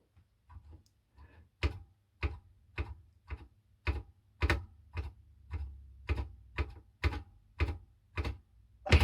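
A steady series of sharp, evenly spaced ticking knocks from the Flagon Bird game on a Dragon 32 computer as the little bird bangs its head, over a low background hum.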